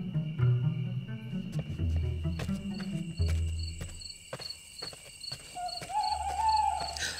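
An owl hoots in a night wood while crickets chirp steadily; the deep hoots repeat several times near the start, joined later by thin high tones and a faint rustle of movement.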